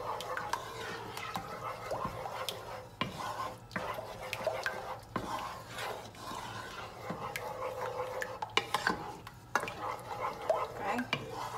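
White sauce with milk stirred in a pan for cauliflower cheese, repeated soft scrapes and clinks of a utensil against the pan over a faint bubbling simmer, with a low hum underneath.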